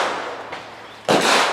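A Spanish FR7 rifle chambered in .308 fires one loud, sharp shot after a short stretch of outdoor background, followed by a lingering echo.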